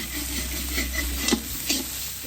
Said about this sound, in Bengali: মশলাটা কষছি, মুড়ি ভাজা।